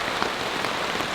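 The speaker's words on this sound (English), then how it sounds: "now I get to listen to it rain" Heavy rain pattering steadily on a tent in a thunderstorm at night, a dense continuous hiss of drops close overhead with no voices.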